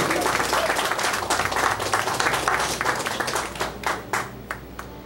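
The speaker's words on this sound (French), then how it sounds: "Je vous demande d'applaudir la représentante des pensionnés." Loud, close applause from an audience, a dense burst of clapping that gradually thins and fades toward the end.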